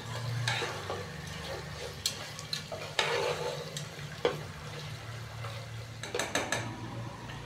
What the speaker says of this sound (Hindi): खड़े मसाले डालने के बाद हम इसको 1 से 2 मिनट के लिए अच्छी तरह भून लेंगे।